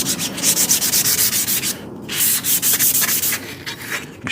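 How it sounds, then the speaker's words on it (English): Rhythmic back-and-forth sanding on metal parts of a Trans Am being prepped for epoxy, loud and close, in steady strokes with a brief pause midway. "we're going to go ahead and sand the rest of those down"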